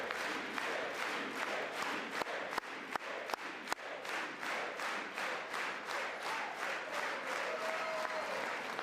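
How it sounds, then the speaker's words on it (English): A live audience applauds steadily and loudly at a speech to Congress, a dense wash of clapping with a few sharp louder claps near the start, continuous throughout. "they clapped that time"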